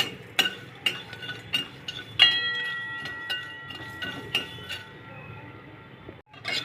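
Whole cinnamon, cloves and cardamom dry-roasting in a pan on low heat, stirred with a utensil that clinks sharply against the pan in a loose rhythm over a soft background hum.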